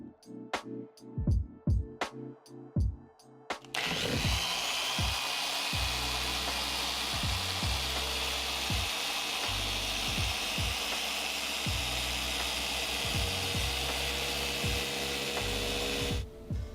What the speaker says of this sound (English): But we're gonna buff this thing out,